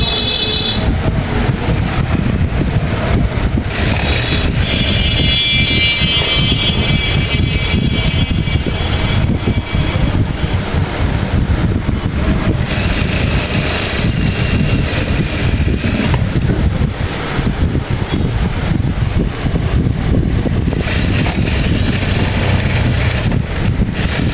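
A sewing machine stitches the elastic waistband of women's pajama pants, giving a loud, continuous whirring and rumbling run that holds steady for the whole stretch, with no talking.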